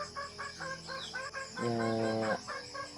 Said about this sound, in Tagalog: Madami kasi yung manok natin tol. Dumadami na.